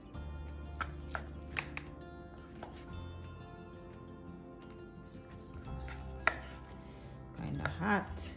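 A knife slices through cooked chicken on a cutting board while preparing chicken and shrimp fettuccine, giving a series of close, irregular chopping taps with quieter pauses between cuts.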